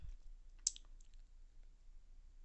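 A single quiet computer mouse click, crisp and brief, in an otherwise near-silent room.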